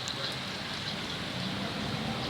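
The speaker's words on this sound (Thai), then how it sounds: "บรรยากาศฝนตกครับ ฝนตก" Steady hiss of rain falling, constant and fairly close, with no breaks or voices over it.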